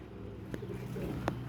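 Pigeons coo softly on a rooftop, a few low throaty calls rising over steady background murmur.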